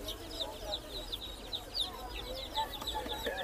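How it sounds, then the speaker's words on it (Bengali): Hill and tiger breed chickens cluck in rapid, overlapping calls at a busy poultry market in Hemayetpur, with a murmur of market noise underneath. "কি মুরগি? পাহাড়ি মুরগি, টাইগার মুরগি।"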